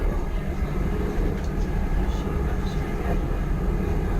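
Inside a moving train, a steady broadband rumble and rushing noise fills the carriage, loud and continuous with no talk.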